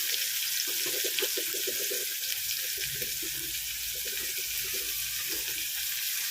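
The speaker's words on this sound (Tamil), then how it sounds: "கருவேப்பிலாம் சேர்த்து நல்லா வதக்கி விட்டுக்கலாம்" Curry leaves and onions sauté in a pan for okra kara kuzhambu, a steady hiss of frying and sizzling with faint stirring and clinking throughout, no voices.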